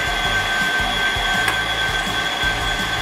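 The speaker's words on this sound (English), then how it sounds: "Now we're going to run this dough on speed 7 on the" A KitchenAid stand mixer with a pasta attachment runs at speed 7, working whole wheat pasta dough: a steady, loud motor whine with constant tonal hum and low rumbling, continuous and close throughout with no talk.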